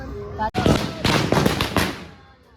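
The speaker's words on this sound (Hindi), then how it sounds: "सब मेरा भाई बहन सब पटाखा फोड़ने में बिजी है।" Loud firecrackers bursting nearby during Chhath Puja, a sharp crack followed by a rapid ragged string of pops and bangs that fade out.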